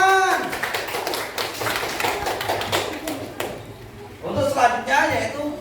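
A classroom group claps hands together in a quick burst of applause that fades, followed by voices talking.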